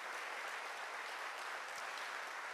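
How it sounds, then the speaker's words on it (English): A film festival audience in a cinema applauds the projection booth team, broad sustained clapping from a large crowd at a constant level, with no voices over it. "Please give a round of applause to the entire team up in the projection booth"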